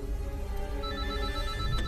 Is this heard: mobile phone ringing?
yes